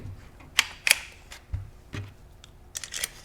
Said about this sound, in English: as we tighten the magazine cap, and it's a pretty heavy spring, but it will compress